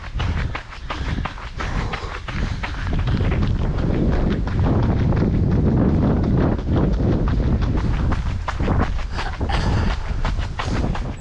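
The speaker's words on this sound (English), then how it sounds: "I've just been running face first into the wind." Wind batters a microphone carried by a runner heading into a headwind on a long hilly run, making loud, constant buffeting roar with irregular gusty thumps and no clear voices.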